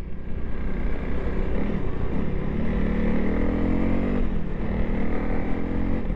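A 2022 Honda CRF300L motorcycle rides along with a steady engine drone, and the pitch rises and falls gently as the throttle shifts. It stays continuous and moderately loud with no talking.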